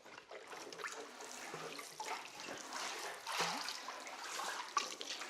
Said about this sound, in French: Donc là, maintenant, je vais me faire un petit arrosage.